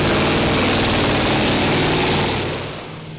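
Big Iveco V8 engine of a 2,000-horsepower pulling tractor at a Danish championship tractor pull in Herning, roaring loud and steady before fading slightly at the end.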